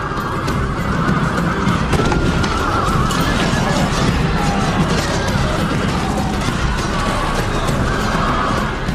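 Roman cavalry horses in the Time Commanders battle game neigh and whinny loudly over thundering hooves and crashing clashes, a dense continuous battle din with no pause.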